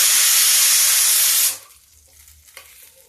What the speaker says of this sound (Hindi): ये बड़ियाँ हम तल लेते हैं और तल के इनको निकाल लेते हैं